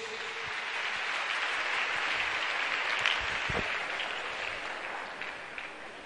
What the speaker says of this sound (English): Clap your hands and take your seat.